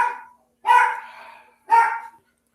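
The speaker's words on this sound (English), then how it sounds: "Oh no, my dog's barking." A dog barks three times in separate bursts, close and fairly loud, with a short gap after the first and a longer pause after the second, indoors with no other sound between barks.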